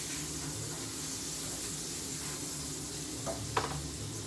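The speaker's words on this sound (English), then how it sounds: "Caramelizing my onions." Onions caramelizing in a frying pan give off a steady, soft sizzle that runs the whole time, with a couple of brief clinks or stirs near the end. The sound is close and even, with no talking.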